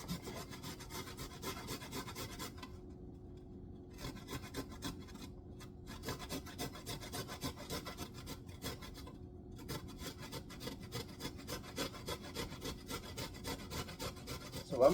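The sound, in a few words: grating a piece of spice on a grater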